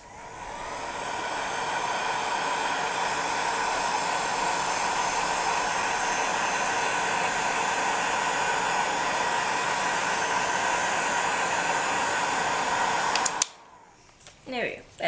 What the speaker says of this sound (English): what I like to do is I just like to take a heat gun